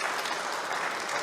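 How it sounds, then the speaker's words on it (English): Brief burst of audience applause for a performer at a chapel gathering, dense continuous clapping at moderate volume with no voices. "Let's give him another round of applause."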